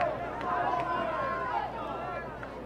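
A crowd at a high school state tournament baseball semifinal reacts to a disputed strike call with a loud babble of shouts and voices that swells briefly and then eases, with a commentator talking over it.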